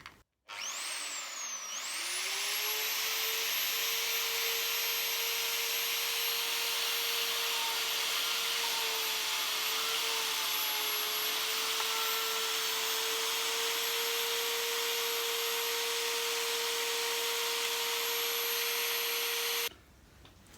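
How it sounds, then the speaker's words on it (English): A router fitted with a 12mm bit spins up and runs for a long, steady, loud whine, cutting wood at close range before shutting off near the end. "I've put the 12mm router bit in"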